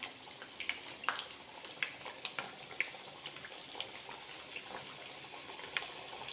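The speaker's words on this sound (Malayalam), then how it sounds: "നമുക്കിപ്പോൾ ഒരു മൂന്ന് നാല് വട ഇടാം കേട്ടോ" Parippu vada, Kerala lentil fritters, sizzling steadily in hot oil with a soft continuous crackle and scattered small pops, fairly quiet and heard alone.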